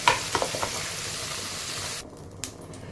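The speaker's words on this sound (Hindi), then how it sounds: "आप साइज़ के हिसाब से इनको तेल में फ्राई कर लीजिएगा।" Vegetables for biryani fry in hot oil in a kadai, a close, steady sizzle with a few stirring clatters at first, then quieter frying after a brief sharp knock.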